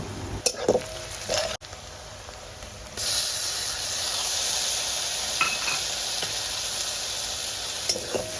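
Ginger-garlic paste sautéed in a pan with cumin powder, coriander powder, turmeric and a little salt for chicken khichdi: a few light clicks, then a loud, steady broadband sizzle that holds close and unbroken for the rest of the clip.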